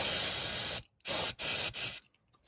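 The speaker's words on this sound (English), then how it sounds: "I like taking some brake cleaner and just" Three bursts of hissing brake cleaner spray during a driveway oil change, close and loud, separated by short silent pauses.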